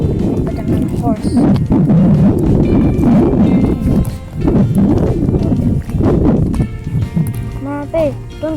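Horse hooves clop along a jungle trail during a horseback ride, an irregular walking rhythm of thuds close by, partly masked by people talking over it.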